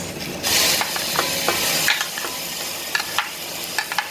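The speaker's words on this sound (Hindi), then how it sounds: "ऑयल के गर्म होने का वेट करेंगे और इसमें शामिल कर देंगे हम प्याज" Onions dropped into hot oil for a chicken malai boti handi burst into a loud sizzle, then fry steadily with spoon stirring and clinks of the pot close by.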